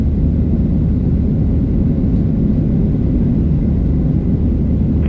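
Southwest Airlines Boeing 737-7H4 taking off at San Jose, California: a loud, continuous low engine roar and rumble, dense and steady for the whole stretch, close and overpowering, with no voices.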